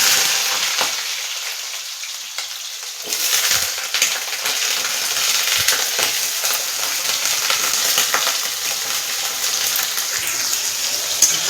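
Potatoes fast-frying in hot oil in a kadai, a loud, steady sizzle and bubbling crackle with occasional stirring scrapes, close up and continuous throughout.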